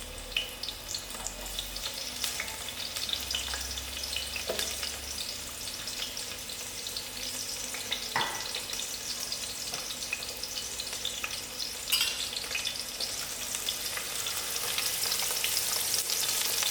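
Onions fry in a pan in a steady, close hiss with occasional stirring scrapes and a few sharper clinks, the sizzle growing brighter near the end, with no voices.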